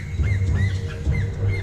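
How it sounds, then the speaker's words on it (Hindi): A hoatzin calls in the jungle with repeated harsh, wheezing squawks in short bursts, fairly close and clear, over a low rumbling background. "असल में ये एक होट्जिन बर्ड की आवाज थी जो उसने पहले भी सुनी हुई थी।"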